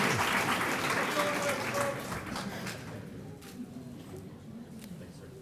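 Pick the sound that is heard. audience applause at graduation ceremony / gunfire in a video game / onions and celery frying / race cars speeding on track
audience applause at graduation ceremony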